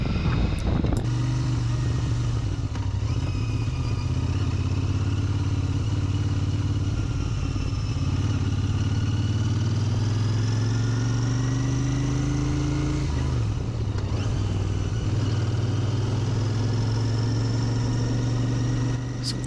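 A Royal Enfield Interceptor motorcycle engine drones steadily while riding through a left-hand turn, its pitch gliding up and down with throttle under constant wind rush, with a couple of brief clunks along the way.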